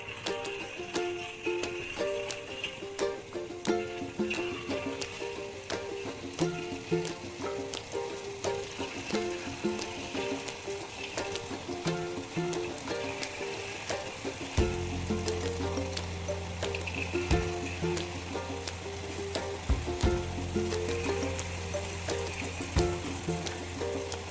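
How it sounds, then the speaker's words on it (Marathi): Urad dal jalebi batter piped into very hot oil fries with a steady, dense sizzle and crackle that runs throughout, with a low bubbling hum joining partway through. "आपण या सोनेरी कलर येईपर्यंत याप्रमाणे आपण सर्व तळून घेऊया"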